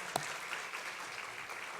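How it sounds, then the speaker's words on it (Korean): A congregation applauding in thanks during a church service, soft and distant steady clapping with one sharper clap near the start. "한 해 동안 우리 주님께 감사의 박수 보내드렸으면 좋겠습니다"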